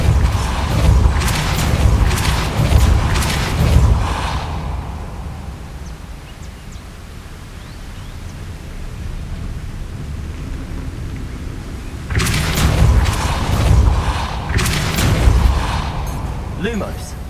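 Repulsor spell blasts in Hogwarts Legacy on PS5 arrive as two clusters of loud, booming concussive bursts with rumbling tails, separated by a quieter stretch of ambient game sound.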